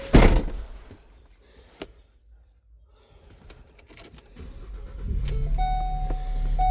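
A 2016 Ford Transit van: a door thump opens the sequence, a quiet cabin pause follows, then the engine settles into a steady low idle hum with faint electronic tones over it.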